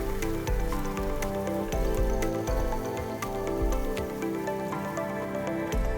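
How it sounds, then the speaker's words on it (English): Broth ladled into a hot wok coated with oil splatters and sizzles in a steady, dense crackle with scattered sharp drips and pops, close and fairly loud, no voices, while making the broth for Singapore prawn noodle soup. "pour in a few ladles of soup into the wok. This will cause a lot of splattering because the wok has some oil."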